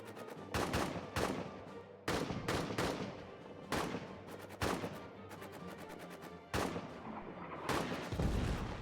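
Machine gun fire in the trench warfare video game All Quiet in the Trenches, loud repeated bursts of rapid shots broken by short pauses, with heavier blasts mixed in and no voices.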